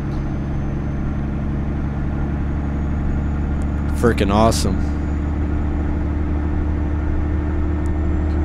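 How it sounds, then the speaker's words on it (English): Dodge Bighorn CNT950 logging truck in American Truck Simulator, its engine giving a loud, steady low drone throughout, with a short spoken exclamation over it about halfway through. "Crazy how loud this engine is"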